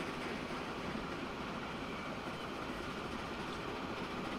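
Train running along a line in the game Transport Fever 2, a steady, dense rolling rumble of wheels on track, continuous and close, with no voices.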